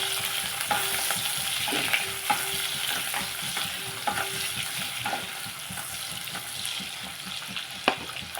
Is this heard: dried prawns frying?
yes